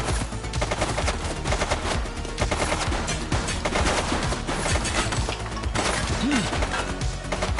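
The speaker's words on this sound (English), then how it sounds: "She's shooting!" Gunfire in the police video game The Precinct: loud, continuous automatic bursts and rapid shots fill the stretch, with little talk over them.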